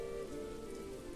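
Steady rain falls in the medieval city-builder game Manor Lords, a continuous even hiss of drops on surfaces that holds level through the whole short stretch.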